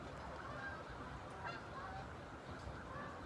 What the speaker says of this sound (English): The geese are so noisy.